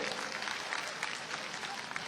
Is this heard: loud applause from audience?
yes